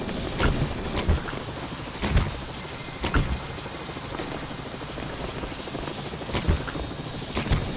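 Lightning strikes and thunder in the Trine 2 video game, sharp crackling cracks repeating every second or two over a continuous rain-like rushing bed.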